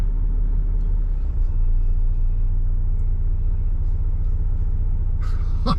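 BMW GS adventure motorcycles on road tyres working hard up a hill, a loud continuous low engine rumble close by with a brief sharper burst near the end, and a voice talking over it.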